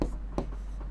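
Pen writing out a maths solution on paper or a board for a Class 10 arithmetic progression problem, heard as three short scratchy strokes close to the mic over a steady low hum, with no talking.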